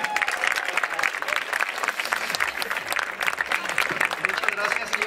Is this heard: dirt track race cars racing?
no